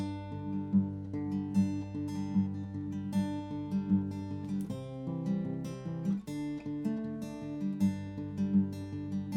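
Fingerpicked acoustic guitar chords with an alternating bass, steady and rolling, played alone and fairly quiet.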